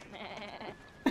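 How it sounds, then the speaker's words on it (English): A sheep gives a short, faint bleat on a farm, one wavering call that lasts under a second and is followed by a brief louder knock at the end. "Oh, got the sheep."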